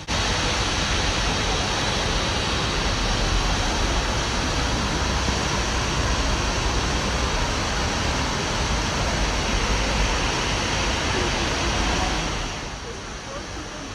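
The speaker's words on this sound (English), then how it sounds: "welcome to the largest indoor waterfall." The huge indoor waterfall at Singapore's Changi Airport gives a loud, dense, unbroken roar of falling water that holds steady, then drops off sharply near the end.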